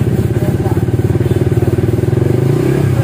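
Suzuki GSX-S motorcycle with a modified stock exhaust held at a steady 3000 RPM, a loud, close, rapid pulsing burble that runs throughout without a break.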